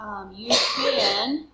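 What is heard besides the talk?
sneeze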